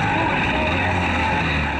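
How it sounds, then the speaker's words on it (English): The outboard engine of an inflatable surf rescue boat catches and runs loud and steady, a close, continuous motor drone with no talk over it. "And the engine finally starts."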